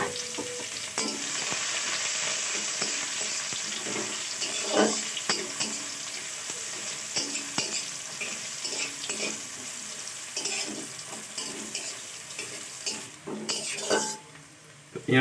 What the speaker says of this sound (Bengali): এটা আমি একটু পেঁয়াজ দিয়ে দেবো